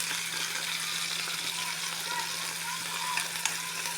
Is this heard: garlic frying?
yes